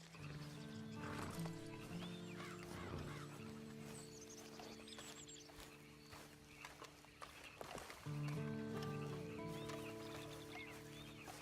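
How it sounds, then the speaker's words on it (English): A horse in the Red Dead Online video game whinnies and snorts amid clip-clopping hooves, with farmyard chickens clucking in the background and a game music bed running throughout. "And you better get on this horse."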